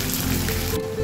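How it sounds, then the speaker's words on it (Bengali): Sliced onion frying over medium heat in a pan for tehari biryani, a dense continuous sizzle that drops away sharply near the end. "পেঁয়াজটা হালকা ভাজা হয়েছে"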